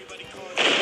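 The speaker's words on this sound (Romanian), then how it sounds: "Și împușcătură." Gunfire in the GTA video game: a sudden, loud, harsh blast of shots bursts in partway through and carries on to the end over a low background rumble.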